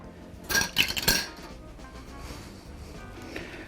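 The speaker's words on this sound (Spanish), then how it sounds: "ahora vamos a echar un poquito de azúcar" A spoon clinks against a bowl as a spoonful of sugar goes into egg whites, giving a short burst of close metallic taps and scrapes before the kitchen falls quiet.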